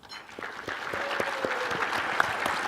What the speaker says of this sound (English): Please join me in giving a warm round of applause to Becky Norton Dunlop.